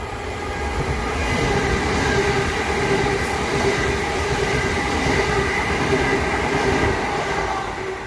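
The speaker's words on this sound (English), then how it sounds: "the next train to pass by will be a pair of Southeastern 375s." Two Southeastern Class 375 electric trains run coupled as a pair past the station at Grove Park in southeast London. The rumble of the wheels on the rails is loud and steady, building quickly and holding for several seconds before easing off.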